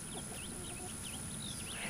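Chickens on a small farm cluck in short, faint calls over a steady background hiss, several birds sounding at a distance and close together.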